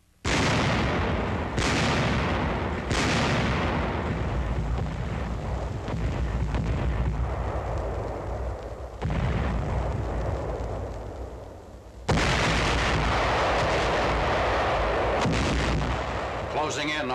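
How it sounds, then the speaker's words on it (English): Hundreds of artillery guns firing on the encircled city of Aachen in a September 1944 US Army WWII newsreel: loud, deep booming blasts, several sharp onsets a few seconds apart, each trailing into long rumbling reverberation. "The ultimatum is rejected and hundreds of guns open fire on the encircled city."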